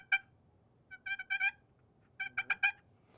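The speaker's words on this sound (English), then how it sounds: "To purr or whine, you put light pressure on the wall with the paddle and slightly drag the lid." A paddle turkey call worked with light pressure and a dragged lid, giving soft, rolling purr-like chirps in a few short clusters, quiet and close with gaps between them.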